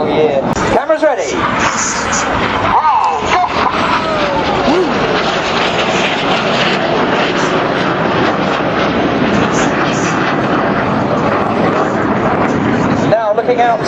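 Red Arrows jet aircraft roar overhead at the Blackpool Air Show, a loud sustained rushing drone that rises and falls as the jets pass, with brief dips and a commentator speaking over it.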